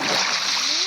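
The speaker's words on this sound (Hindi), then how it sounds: "कूद जाओ पानी में" A short, bright splash as a character jumps into water in Minecraft, a brief burst of churning water with a voice faintly underneath.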